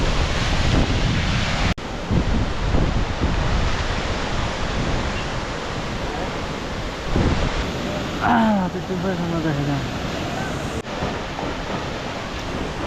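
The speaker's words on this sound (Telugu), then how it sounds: "కొంచెం వాటర్ ఫ్లో ఎక్కువైపోయింది, గట్టి పడుతున్నాయి రాళ్ళు కూడా, పెద్ద పెద్ద రాళ్ళు పడుతున్నాయి పైన" Loud, steady roar of a rushing mountain river in Mana Village, India, fills the whole stretch, broken by a few sharp thuds of large falling stones, with a brief high warbling call partway through.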